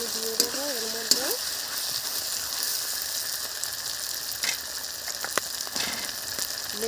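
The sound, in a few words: marinated duck meat poured into hot pan, sizzling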